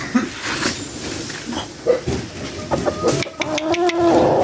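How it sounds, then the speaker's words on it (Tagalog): A large broodcock in a small backyard poultry yard gives several close, loud clucks and short calls, with other fowl and rustling around it in the yard. "Laking manok to."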